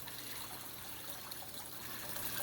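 Gentle, steady trickle of water spilling down an aquarium waterfall tank, a soft continuous splash with no break, fairly quiet and heard alone.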